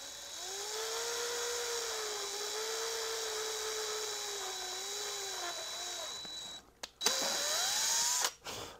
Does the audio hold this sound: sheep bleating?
no